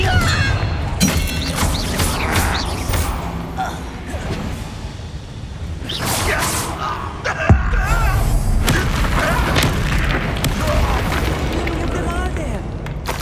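Confringo spell blasts in Hogwarts Legacy, repeated booming explosions and crashes amid chaotic combat sounds, one sharp hit near the middle, while someone shouts spell names over the fight.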